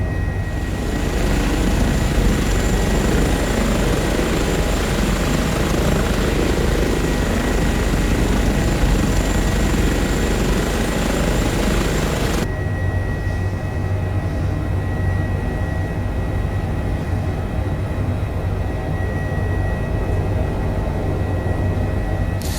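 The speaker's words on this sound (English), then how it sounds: "you see those lovely rotor effects, it just adds that extra layer of immersion" Rotor and engine noise of an H145 helicopter in a flight simulator drones continuously and loudly, the tone abruptly changing partway through as if the listening position switched.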